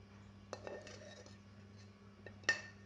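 Roasted mixture being moved onto another plate, with a few light clinks of a spoon or utensil against the dish, spaced apart with quiet between them and one sharper clink at the end.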